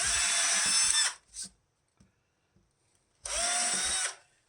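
A power drill boring into a Telecaster-style guitar body to mark the bridge screw holes: two loud, close bursts of about a second each, separated by a short spin-down and near silence.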